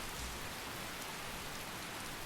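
Heavy downpour in the Skyrim game world, a dense steady hiss of rain across the whole stretch with no voices.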